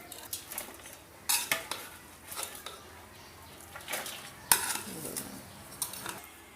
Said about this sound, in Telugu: అన్నాన్ని బేసన్లో వేసుకుంటున్నానండి